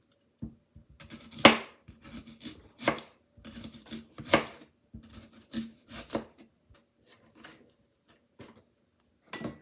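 Knife chopping a thinly sliced onion on a board for baked beans with hamburger, heard as irregular sharp cuts in short bursts and single strokes, close and fairly loud, with pauses between and no talking.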